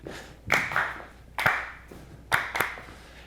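Hand claps during a line dance lesson: three sharp, close claps spaced about a second apart, each with a quick double slap, alone with no talk.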